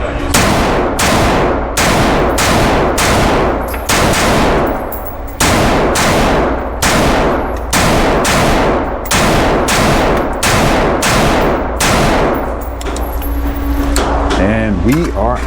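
Watchtower Type 15 rifle emptying a magazine, about a dozen loud, sharp shots fired in a fairly even rhythm at close range, followed by the clatter of the action and some talk.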